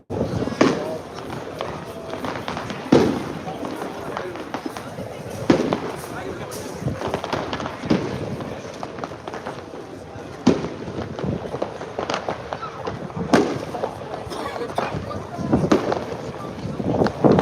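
Fireworks crack and boom repeatedly during the night at the Le Mans race, sharp bursts popping at intervals over crowd ambience while people talk nearby.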